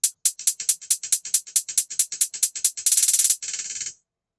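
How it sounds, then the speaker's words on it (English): A Mariana Oli hi-hat sample plays alone as a quick, steady run of crisp, bright ticks, ending in a few louder, longer open-sounding hits that fade out. "Mariana Oli hi hat. Sounds like this."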